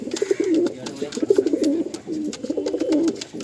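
Pigeons of a breeding main pair in a loft coo in repeated, throaty, rolling phrases, loud and close, with brief pauses between bursts and some faint rustling behind.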